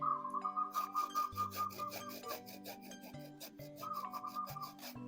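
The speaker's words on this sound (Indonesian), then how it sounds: "Nah, kalau sudah dipotong, teman-teman parut seperti ini." A cut plant bud grated by hand: a rapid run of rasping, rubbing strokes, close and fairly quiet, with a faint whistling tone in the background.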